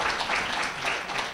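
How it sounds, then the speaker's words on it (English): Audience applause at a public forum on wind and solar zoning, a dense, steady wash of many hands clapping throughout without a break, moderately loud and filling the hall with no voices on top. "if we could hold our applause and move on to the next"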